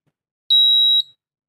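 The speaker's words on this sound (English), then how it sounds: "once it crosses the threshold it will also give a buzzer." A buzzer on an IoT air quality monitor with MQ gas sensors sounds as the smoke reading crosses its threshold: one steady, high electronic beep of about half a second, clear and alone in otherwise silent surroundings.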